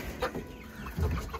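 Several chickens clucking close by in short, irregular bursts, soft to moderate in volume, with no talking.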